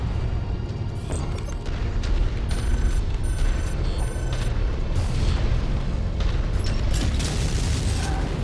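Bombardment from a mech in MechWarrior 5 rumbles as a continuous stream of deep booms and explosions, layered with mechanical clanking and servo whines, loud and sustained throughout.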